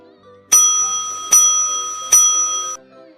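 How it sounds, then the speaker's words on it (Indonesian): School bell ringing for break time: three loud, metallic rings at even intervals, each striking sharply and ringing out briefly before the next, with nothing else heard. "Bel tanda istirahat pun berbunyi."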